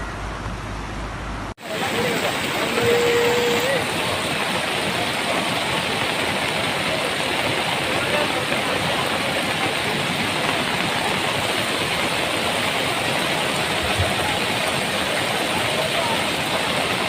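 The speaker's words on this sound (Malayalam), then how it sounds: "ഫുള്ള് വെള്ളം നിറഞ്ഞിട്ട് അടിയിൽ നിന്ന് വെള്ളം തള്ളുവാണ്." Floodwater rushes and surges during the Kerala floods, water forcing up from beneath around a submerged car; a loud, steady, close roar fills the whole stretch after a brief cut at the start.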